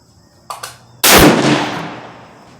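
A Savage 110 Tactical rifle fires a single 140-grain round at a shooting range, one loud sharp crack with a decaying echo, preceded by two small mechanical clicks.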